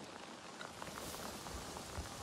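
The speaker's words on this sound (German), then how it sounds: "Und es regnet gerade, okay." Rain in the video game Avatar: Frontiers of Pandora falls steadily on surfaces, a dense even patter of drops with no voices.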